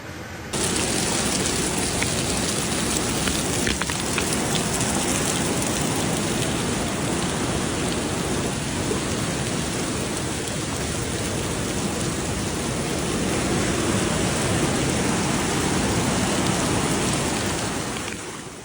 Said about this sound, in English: battered by historic rains.